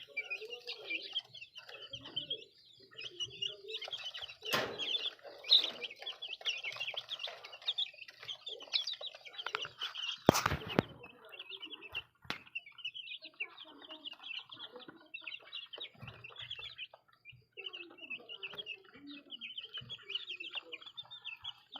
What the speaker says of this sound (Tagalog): Ito naman yung ating sisiw.